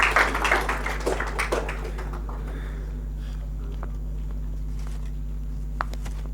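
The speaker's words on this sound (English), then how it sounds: "Huge round of applause for Yuvraj." Audience clapping for an event participant, a brief burst of claps for about two seconds that quickly dies away, leaving a steady low hum and a few faint taps.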